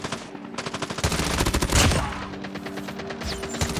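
Rapid automatic gunfire from a QQ9 in Call of Duty Mobile fires in dense, loud bursts, with brief gaps and near and farther shots overlapping.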